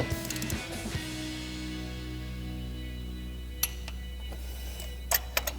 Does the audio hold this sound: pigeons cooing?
no